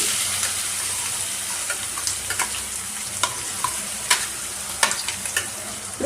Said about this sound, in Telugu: మనకి ఇప్పుడు పచ్చిమిర్చి పేస్ట్ వేసేస్తున్నాము